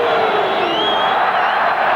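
Large stadium crowd at a Wigan versus Leeds rugby league match roaring in reaction to a missed conversion kick, a loud sustained mass of voices with no pause.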